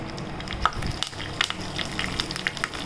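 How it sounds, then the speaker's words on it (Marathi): Curry leaves crackle in a hot tempering of mustard seeds and cumin for spicy curd rice, a steady sizzle with sharp popping spatters, close up and without voices. "आता आपण फोडणीमध्ये मोहरी टाकली, जिरं टाकली, आता कढीपत्ता टाकूया"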